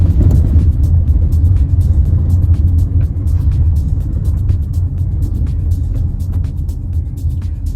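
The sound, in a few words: 2024 GMC Terrain SLT driving over road bumps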